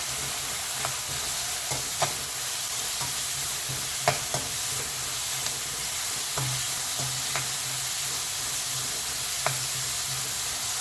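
Chopped onions and green chillies fry in a pan for pepper chicken roast, giving a steady, even sizzle with occasional sharp scrapes and taps of a spatula stirring them.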